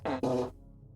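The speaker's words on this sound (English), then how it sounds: "I put 54 random fart sounds on a button" A fart sound effect fired from a button comes as two quick, buzzy blasts in close succession, then stops.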